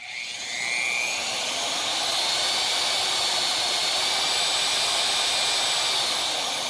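A 750-watt Hurricane Wind Power micro wind turbine spins up, its loud steady whooshing whir rising quickly and then holding constant, close and without talk.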